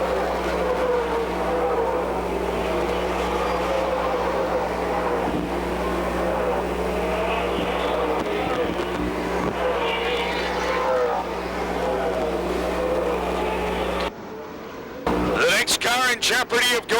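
Stock cars at Rockford Speedway in a 1995 ARTGO 150 race drone past in a continuous loud engine roar, rising and falling as the field circles the short oval, cutting off abruptly near the end into brief choppy noise.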